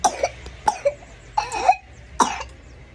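A sick baby coughs in short, harsh, quick bursts, about four clusters spread over a few seconds, close up with quiet pauses between them.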